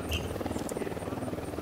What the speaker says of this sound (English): there's a copter over there